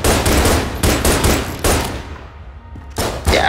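Rapid gunfire from the video game Enter the Gungeon comes in loud, close bursts of repeated shots, with a brief lull in the middle before the firing picks up again.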